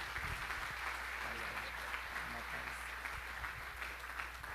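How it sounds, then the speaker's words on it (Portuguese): A church congregation applauds during an evening revival worship service, the clapping a steady, dense wash lasting the whole stretch, heard over a low hum, with voices mixed in. "E a gente aplaude recebendo o servo de Deus com alegria."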